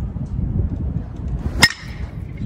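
One crisp metallic crack rings out as a DeMarini Voodoo BESR baseball bat hits a ball, with a brief ringing tail over steady low background noise and murmuring.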